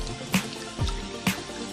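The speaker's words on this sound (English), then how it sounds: "it's very important to wash your hands before you start cooking." Water runs over hands at a kitchen sink before cooking, with four evenly spaced soft splashing bursts over a steady, quiet trickle.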